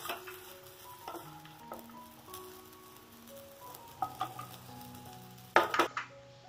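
Ingredients for a Kerala chammanthi, a coconut chutney made with bajji chillies, fry in a pan, giving a low steady sizzle. Stirring scrapes and a few brief clinks of utensil against the pan stand out near the end.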